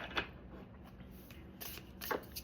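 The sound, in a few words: shuffling tarot cards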